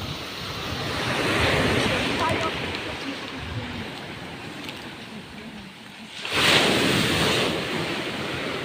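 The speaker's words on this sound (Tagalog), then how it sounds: "ganyan talaga kalas ang alon dito?" Rough ocean surf at Dingalan, Aurora roars steadily along the shore, with wind buffeting the microphone and a fresh wave surging louder near the end.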